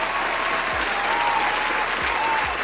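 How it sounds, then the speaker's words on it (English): Audience applause follows a call to cheer for a group of women, a steady dense clapping throughout with a few low thumps and faint voices mixed in. "Give them a round of applause."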